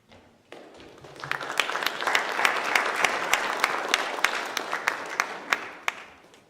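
An audience applauds the president of Clark University at a university athletics Hall of Fame ceremony, a sustained crowd clapping that swells after a quiet start, with sharp individual claps standing out near the front before it fades.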